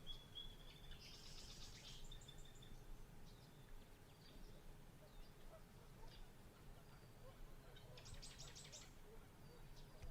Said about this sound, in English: This is a nice bird one.